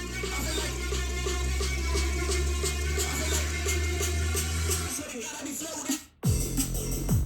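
AI-generated electronic music plays back with a steady droning bass and layered synth tones; it drops out abruptly near the end, then briefly resumes.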